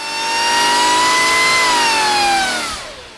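Supercharged GM Gen V LT V8 with a Harrop top-mount blower revving hard on a dyno, a loud sustained whining roar that climbs steadily in pitch, holds, then sweeps down and cuts off near the end.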